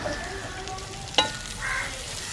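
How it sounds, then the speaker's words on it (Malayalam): Two large finely chopped onions sizzling steadily in hot oil in a pan, with a single sharp clink of a stirring spoon midway and the frying hiss continuing alone, close and fairly loud. "ഇനി രണ്ട് വലിയ സവാള ചെറുതായിട്ട് കട്ട് ചെയ്തത് ഇട്ട് കൊടുക്കാം."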